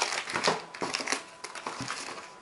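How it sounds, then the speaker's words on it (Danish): Cardboard and plastic packaging from a graphics card's accessories crinkles and crushes close by as it is packed away, in a run of irregular rustles and crumples with no talk. "tilbehøret her væk"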